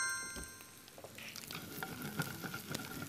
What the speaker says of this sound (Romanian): Trebuie să-i prăjim bine cartofii pe ambele părți